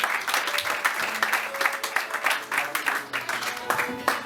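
A church youth convention congregation claps steadily and cheers, with dense rhythmic applause mixed with voices and a faint sung tone underneath.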